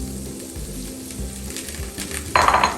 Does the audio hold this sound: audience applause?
no